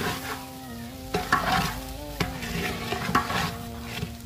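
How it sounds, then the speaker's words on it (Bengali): Biryani being stirred in a pot as it fries, a spoon scraping and knocking in uneven strokes over a constant sizzle and a low droning hum, close up with no talk. "এই নাড়াটা দেখলে মনে হয় কত ইজি, কিন্তু এটা নাড়া দিতে খবর হয়ে যায়"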